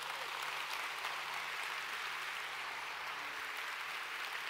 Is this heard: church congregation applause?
yes